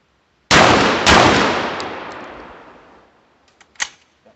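Two loud, close shotgun blasts from a Hatfield SAS semi-automatic shotgun about half a second apart, each ringing out in a long decaying echo, followed by faint clicks and a smaller metallic clack.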